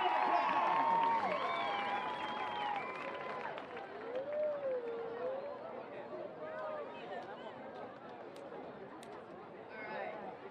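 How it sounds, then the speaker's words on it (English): Crowd in the stands at a La Sierra at Jurupa Valley high school football game applauding and cheering homecoming candidates, a steady roar of clapping and chatter with whistles and calls, while an announcer's voice carries over a PA. "let's give a big round of applause to all of our candidates"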